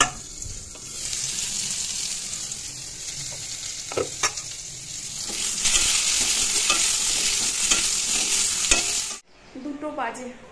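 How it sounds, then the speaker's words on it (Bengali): Pointed gourd (potol) frying in a pan, a loud steady sizzle with repeated scraping stirs and clacks of a utensil, close up, ending abruptly in a brief quieter tail. "পটলগুলো এখন ভাজবো"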